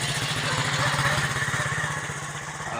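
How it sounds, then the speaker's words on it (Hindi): A motorbike engine rumbles steadily close by outside a house, its low pulsing throb holding loud for the whole stretch as it passes. "इस तरफ से बाइक आ रही है, पता नहीं कौन आ रहा है।"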